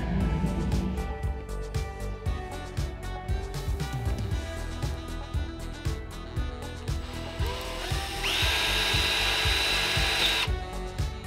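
An expandable stone hone spun by a power drill works the damaged lifter bores of an LS2 engine, a steady close whirring drill drone with rhythmic grinding scrapes. A higher-pitched whine rises near the end.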